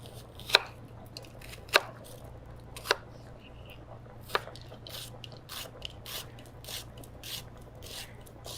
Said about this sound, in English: first I'm going to cut up my onion really quickly